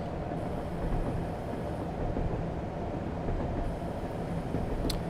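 A Class 37 diesel locomotive coasts along the Wherry Lines from Norwich toward Great Yarmouth in Train Simulator 2016. It makes a steady low rumble with rolling rail noise and a brief metallic high sound near the end, and no voices are heard.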